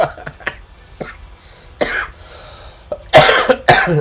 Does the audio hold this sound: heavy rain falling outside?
no